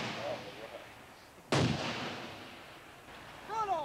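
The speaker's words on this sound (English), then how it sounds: "They learn when and how to use live hand grenades." A live hand grenade goes off during Army ROTC Advanced Camp training at Fort Bragg, North Carolina, in 1992: one sharp, heavy blast whose rumble fades over a couple of seconds, with faint voices around it.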